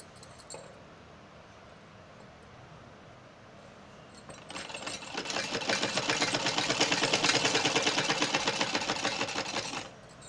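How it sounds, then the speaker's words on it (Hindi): A sewing machine stitches along the edge of a half-sleeve lining, running fast and steadily for about five seconds after a quiet stretch, with an even rattling whir close by. "यहाँ पर हम किनारे किनारे सिलाई लगाएंगे ताकि ये कपड़ा हमारा दब जाए"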